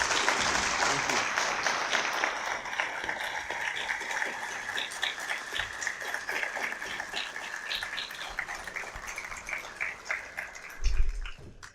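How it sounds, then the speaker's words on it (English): Audience applause closing a debate on liberalizing Islam, a steady wash of clapping that carries through the whole stretch, with murmured voices mixed in underneath. "So everyone, a round of applause for ولارش Gule."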